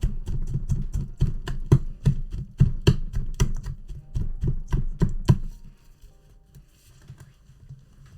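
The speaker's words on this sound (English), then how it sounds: "So I kind of like cut chunks of butter in half as I'm going." A knife chops through chunks of butter on a board during cookie baking at home, a steady run of about twenty close, sharp taps over five seconds, then near quiet.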